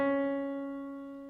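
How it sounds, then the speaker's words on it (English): A steady keyboard note from a semitone step sounds alone, bright and even, decaying gently through its short length with no voices. "But a semitone sounds like this."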